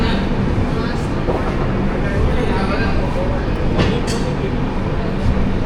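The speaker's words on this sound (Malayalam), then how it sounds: "ഇതാണ് ജുനാഗഡ് സ്റ്റേഷൻ." A train at Junagadh railway station gives a loud, steady rumble and rattle of rolling carriages, heard from on board with a faint voice beneath it.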